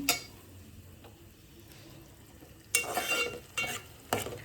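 Mutton masala fries quietly in oil at first, then a spoon scrapes and stirs it in several louder bursts over a soft sizzle.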